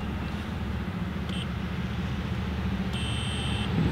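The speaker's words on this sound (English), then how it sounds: "You will hear a confirmation beep" Two short electronic confirmation beeps from an RV keypad lock sound over a steady low rumble, the second one slightly longer than the first.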